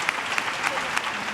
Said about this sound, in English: big round of applause to Smith Middle School